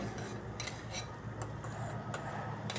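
Spice paste and cabbage being stirred and fried dry over low heat in a pan, with repeated scraping and clinking of a utensil against the metal over a steady low background.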